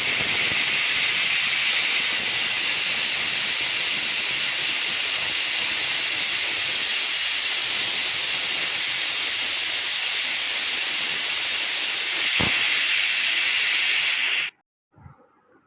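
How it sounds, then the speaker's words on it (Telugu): A pressure cooker cooking mutton paya vents steam with a loud, continuous, close hiss that holds steady for about fourteen seconds before cutting off abruptly, leaving near silence. "ఒక 7-8 విజిల్స్ వచ్చేంత వరకు ఉడికించుకోవాలండి"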